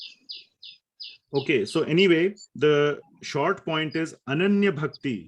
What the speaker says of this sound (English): You can hear some nice bird chirping and all.